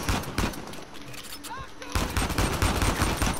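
Pistol and other gunfire in the action video game Uncharted 4, a dense burst of loud, close shots and clatter running through the whole stretch, busiest in the second half.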